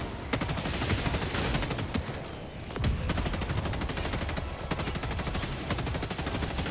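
Rapid gunfire in a video game, continuous bursts of automatic shots crackling close and loud for several seconds, with no talk.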